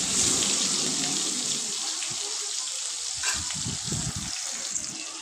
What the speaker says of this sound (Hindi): तो यहाँ फिर मैंने प्याज और हरी मिर्ची का छौंक लगाया है।